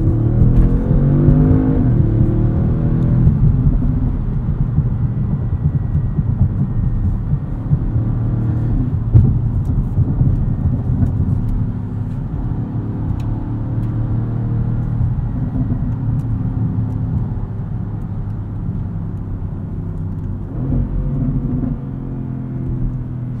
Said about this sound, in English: Right now we're driving in dynamic mode, and as you can hear, you get a little bit of overrun.